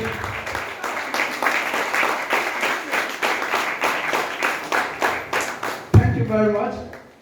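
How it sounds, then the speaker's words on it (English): Loud, sustained applause from an audience at a school office-equipment donation event in Ado Odo, steady rhythmic clapping filling the room for several seconds before a sharp thump and a voice cutting in near the end. "It's a loud round of applause for him."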